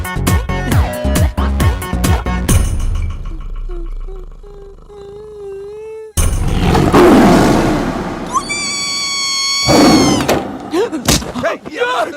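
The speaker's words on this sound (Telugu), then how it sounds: "పులిరా, బాత్రూంలో పులి." A tiger roars in a bathroom during a comedy film scene: a loud, rough roar bursts out after music-like tones and a sharp thud, then sustained tonal sounds follow.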